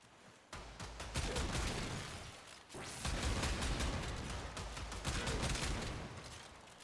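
The Brakk, a punchy hand shotgun with heavy recoil and a fast fire rate in Warframe, fires in rapid repeated blasts, loud and close, with a brief pause before another sustained burst of shots.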